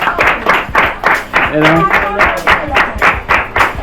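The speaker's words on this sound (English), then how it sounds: "Give him a round of applause here, prefect." Small crowd gathered at a home unveiling, clapping in loose rhythmic bursts, close and fairly loud, while someone speaks briefly over it.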